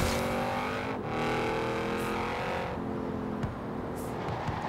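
An Audi RS7 with a V8 engine roars in a racing video game, a continuous throaty drone with rising and falling revs and brief dips between shifts, loud and close with no talking.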